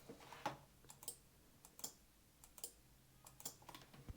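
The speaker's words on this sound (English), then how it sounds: "that's these little relays clicking as we activate them" Small 5-volt relays on a Raspberry Pi switching board click as they are activated, a series of sharp, faint ticks spaced irregularly across a quiet background with no voices.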